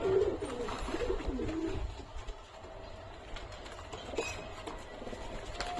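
Pet Madrasi pigeons coo softly while bathing, with low throaty calls early on and faint patter and fluttering around them at a moderate distance.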